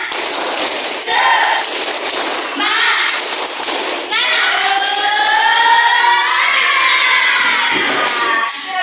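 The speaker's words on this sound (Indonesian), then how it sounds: "Kita tepuk semangat dulu." Schoolchildren in a classroom chant a spirited group cheer together, loud, close and continuous voices in unison with shouted bursts, and any rhythmic clapping is lost under the shouting.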